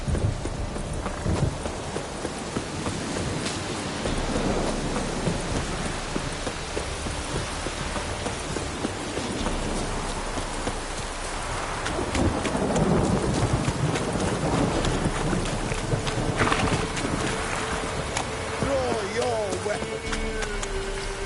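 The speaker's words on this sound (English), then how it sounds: "A storm, damn it." In The Witcher 3 video game, a thunderstorm with steady heavy rain and rolling thunder fills the scene, with horse hooves clip-clopping through it and a voice speaking over the weather.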